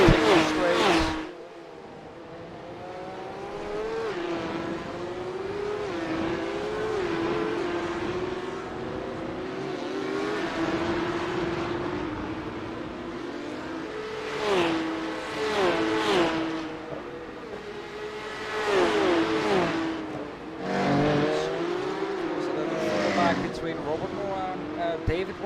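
Porsche Cup race cars in a racing video game drone steadily, with engine notes rising and falling as cars accelerate and slipstream, while a commentator talks over them.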